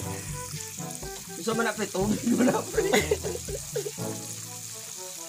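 Chicken feet and heads deep-frying in hot oil give a loud, steady sizzle with bursts of crackling, close up, while men chat casually over it.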